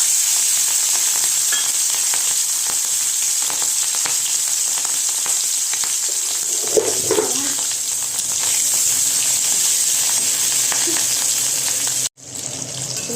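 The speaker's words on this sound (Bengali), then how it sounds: "চিংড়ি মাছটা হালকা করে ফ্রাই করে নিয়েছি" Medium-sized shrimp rubbed with salt and turmeric fry lightly in hot oil in a pan, giving a loud, steady sizzle that continues throughout, with a brief break near the end.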